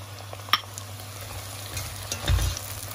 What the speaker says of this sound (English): I'm now going to add my chilies and then add my sliced red onions.